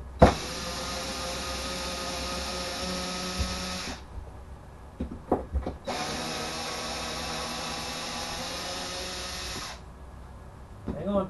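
Power screwdriver whirring steadily as screws are backed out of the base of a fixture in an RV, two long continuous runs separated by a pause with brief clicks and handling knocks, close and fairly loud.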